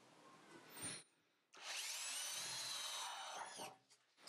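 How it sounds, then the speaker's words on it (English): A power drill whirs briefly, pauses, then runs in a long loud high-pitched burst as it bores holes in a water tank, close up, then stops. "now what I must do is drill the holes"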